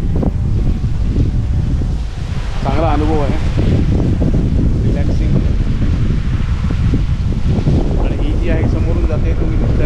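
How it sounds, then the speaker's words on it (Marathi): Strong wind buffets the microphone on a houseboat in the Alleppey backwaters, a steady loud rush under someone speaking. "खूपच हवा आहे इकडे"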